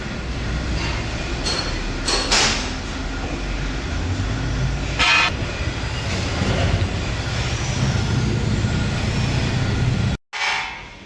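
A train at a railway work site where material is being unloaded, a continuous heavy rumble of rolling wagons with metallic clanks, brief bursts of noise and a sudden drop near the end.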